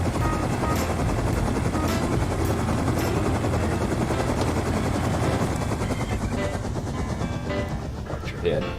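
Minicopter from the game Rust, its rotor and engine producing a loud, steady mechanical drone with rapid chopping pulses that stays constant throughout and eases slightly near the end.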